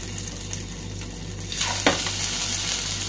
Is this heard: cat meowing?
no